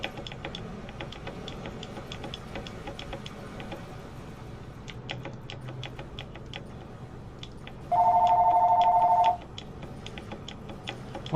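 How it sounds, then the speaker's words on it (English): A telephone rings in a single electronic burst of about a second and a half, cutting clearly over a steady background of game sounds and clicking ticks during a Star Trek Online space battle. "Phone call."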